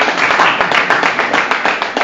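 Close, loud clapping from a theater audience during a live solo stage show, brisk and dense for a couple of seconds with no talk over it.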